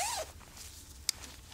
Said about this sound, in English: Does zip super high